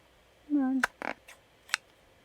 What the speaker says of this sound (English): If I can cut straightly.